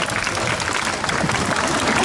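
An audience applauds at a sea lion show at an aquarium, a steady dense wash of clapping filling the whole two seconds at a loud, even level.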